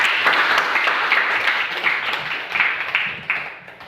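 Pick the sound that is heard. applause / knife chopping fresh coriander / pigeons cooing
applause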